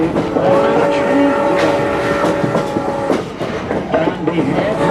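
A heritage train on the Strasburg Railroad, Pennsylvania, rolls past with steady wheel and coach rumble and tonal squeal, loud and close, while people talk over it during a Civil War reenactment event.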